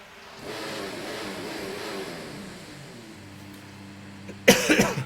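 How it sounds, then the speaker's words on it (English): A cough bursts out near the end, loud and close, after a stretch of steady racing car engine drone and hum in an F1 2019 game at Spa. "Still can't shake this cough."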